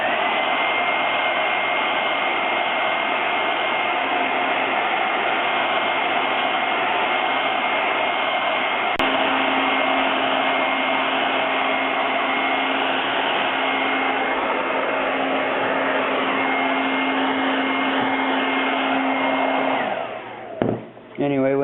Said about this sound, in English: Now it's time for the hair dryer.